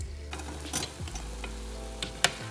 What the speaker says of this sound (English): So these are frying.